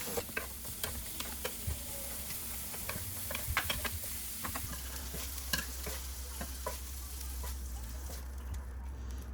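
Pork mini sausage patties fry in a pan with a steady low sizzle, while a utensil stirs and scrapes in scattered clicks and taps close by.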